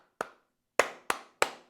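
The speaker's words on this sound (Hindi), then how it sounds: "ये मैंने ताली बजाई" Four sharp hand claps, one alone and then three in a quick, evenly spaced run, each crisp and close with a short decay and nothing else heard in between.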